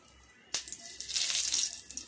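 Dried red chili split and dropped into hot mustard oil in a pan, giving a sudden sharp crackle followed by a steady, bright sizzle that swells and fades over a couple of seconds, close by, with no talking.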